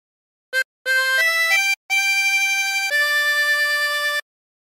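Harmonica playing a phrase of On Top of Old Smokey, a short blip followed by several clean sustained reedy notes stepping between pitches, close and clear with brief gaps between breaths, no voices.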